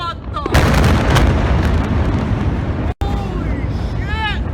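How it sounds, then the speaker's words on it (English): An ammonium nitrate explosion booms loudly as a long roaring blast with rumbling gunfire-like bursts, cut off briefly by a gap, with a voice and shouting over the rumble. "an ammonium nitrate explosion"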